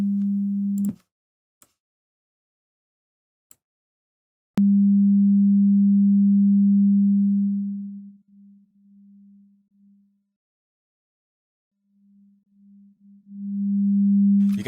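Steady sine test tone processed by a probe beamforming algorithm, a short burst, silence with faint clicks, then a long held tone that fades, wavers in short pulses, drops out and swells back.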